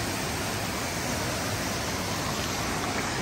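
A river flowing steadily, a dense, even rush of water filling the clip without pause and with no one talking.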